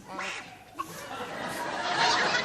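Studio contestants on a 1980 TV game show imitate honking geese with quacking, nasal calls, mixed with snickers and chuckles over a noisy, crowded room.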